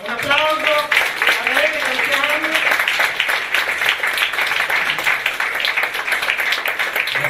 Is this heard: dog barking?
no